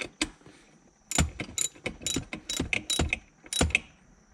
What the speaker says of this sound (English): then to lock it in, I am going to use the 9 millimeter socket on my ratchet handle